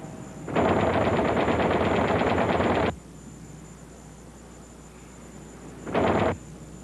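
Twin .50 caliber tail machine guns of a B-25 Mitchell bomber firing, one long rapid burst of over two seconds, a pause, then a short second burst, loud and close.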